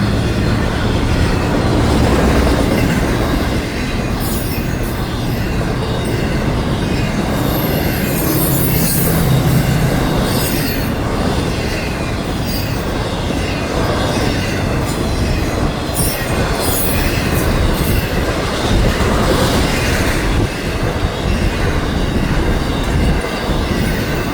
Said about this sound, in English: All of a sudden I saw the train headlights. So I'm at the crossing in the truck.